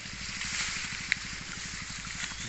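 Water flows in a small stream or ditch during a snakehead fishing trip, a steady broadband rush and trickle with a faint rhythmic low pulsing underneath, close by and continuous with no talk.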